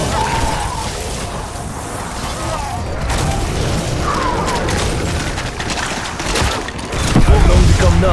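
Booming explosions and crashing impacts rumble through a dense video game battle on hardcore difficulty with four players, heavy low blasts swelling near the end over continuous clattering mechanical noise.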